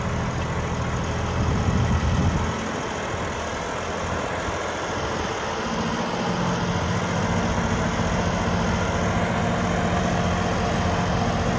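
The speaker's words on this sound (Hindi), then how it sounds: "ट्रैक्टर बहुत ज़्यादा RPM स्लो कर गया, बहुत ज़्यादा दब रहा है ट्रैक्टर" A John Deere tractor engine labours at low RPM under heavy load, a steady deep diesel drone that sags and strains throughout, with no voices.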